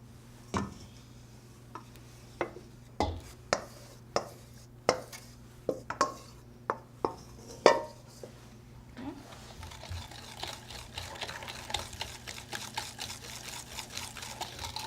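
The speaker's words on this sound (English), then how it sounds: "You want to whisk it until you don't see any streaks remaining, and it will thicken up." A whisk clacks against a bowl in a run of distinct sharp taps, then settles into quieter rapid scraping strokes as chocolate and butter mixture is worked into egg yolks and sugar for a flourless chocolate cake.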